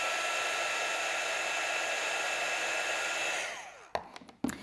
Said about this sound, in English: And what I can do then with my heat gun is dry it.